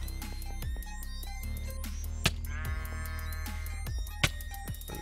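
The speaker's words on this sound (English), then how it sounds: "There's a sheep." Sheep bleating in the Minecraft game Blightfall, several short wavering bleats against a steady, tonal ambient background, with occasional sharp clicks and no talk.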